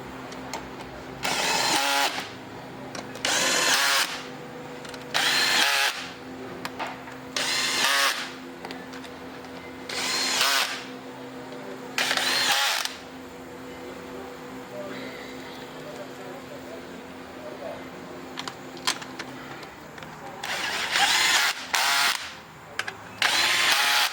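A lightly set cordless screwdriver runs in repeated short bursts, driving the transmission oil pan bolts on a Dodge Challenger with an 8HP automatic gearbox, close and loud, with pauses between bursts and someone talking in the gaps.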